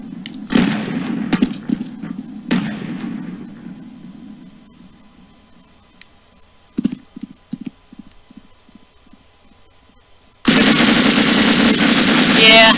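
Gunshots fired at an enemy soldier in Half-Life: a couple of sharp loud cracks early, then a quick burst of rapid shots midway, trailing into quieter game noise before a sudden loud, steady roar at the end.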